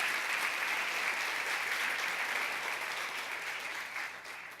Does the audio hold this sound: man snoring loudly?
no